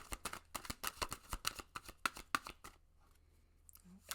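Tarot cards are shuffled by hand in a quiet room, a rapid run of crisp riffling slaps for a few seconds, then silence with a faint trailing rustle.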